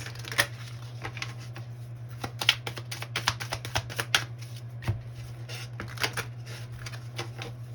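Tarot cards being shuffled close by, a run of quick riffling taps and flicks repeating over several seconds, with a low steady hum underneath.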